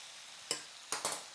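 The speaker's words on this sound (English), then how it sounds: "Sizzling away." Chestnut and butternut squash sizzling in a pan while being stirred, with a soft frying hiss under three sharp scraping stirs of a utensil against the pan.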